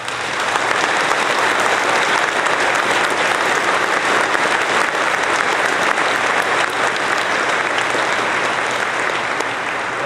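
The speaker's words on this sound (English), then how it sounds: "Thank you very much for that applause." A large fan convention crowd in Phoenix delivers sustained, loud applause, a thick unbroken roar of clapping that holds steady for about ten seconds with no speech over it.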